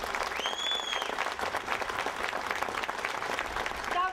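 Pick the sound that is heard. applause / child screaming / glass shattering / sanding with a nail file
applause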